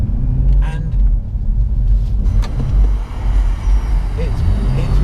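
Car engine droning steadily close up while the car slides around inside a shop, a continuous low rumble with small rises and dips and faint voices in the background.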